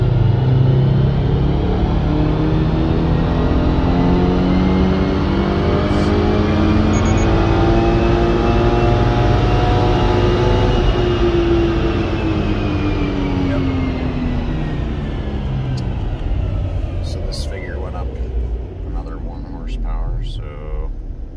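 A 2023 Subaru BRZ engine revving on a chassis dyno on a cold day, its tone climbing slowly and steadily through a long pull before easing near the end, loud and close.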